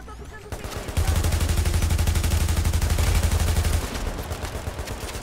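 Sustained automatic gunfire from The Division, a loud rapid burst of shots running for about three seconds amid continuous game combat fire, with no talk.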